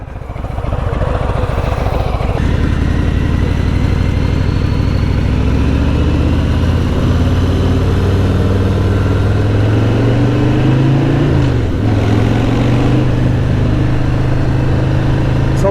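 2020 Harley Davidson Fat Bob motorcycle engine running continuously, a loud low rumble with gentle rises and falls in revs, heard close and alone.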